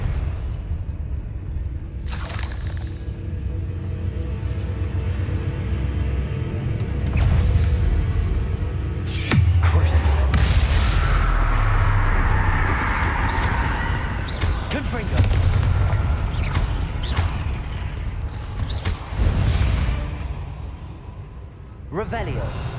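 Confringo blasting spells going off in a Hogwarts Legacy battle, several booming explosive bursts with rumbling tails amid dense game effects and music, with a voice speaking over the action.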